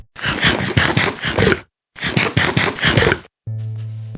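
Rapid crunchy chomping from Minecraft's procedurally generated eating sound, in two quick bursts with a brief pause between, ending in a short buzzy burp.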